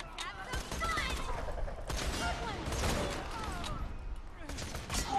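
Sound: sniper rifle gunfire in video game Borderlands 2

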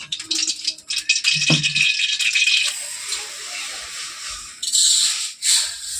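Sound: potatoes and cauliflower frying in oil in a wok

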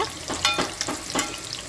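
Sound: garlic frying in a pan

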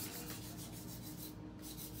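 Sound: nail file filing nails during a nail set

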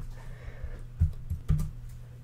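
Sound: typing code on a computer keyboard

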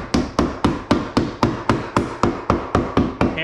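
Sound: hammering something back into place

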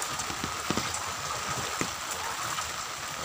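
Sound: continuous rain

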